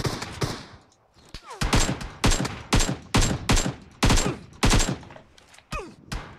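Gunfire in the battle game PUBG crackles as rapid, loud bursts of automatic fire, one volley after another with short gaps, sustained over several seconds.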